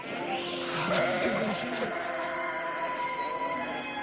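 Sheep in a pasture tended by shepherds give a couple of wavering bleats around the middle, over a steady, moderately quiet background.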